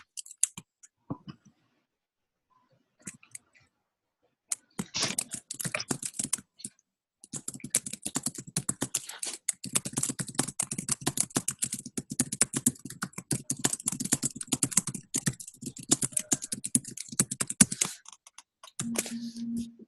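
Someone types a question into a chat on a computer keyboard, producing rapid, faint clicking in bursts with brief pauses, heard alone with no talking.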